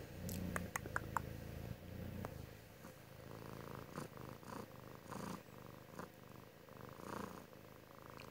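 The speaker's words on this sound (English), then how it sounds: "Can hear her purring, I'm sure." A young cat purring softly and steadily up close in a quiet indoor setting, a low continuous rumble with a few faint taps early on.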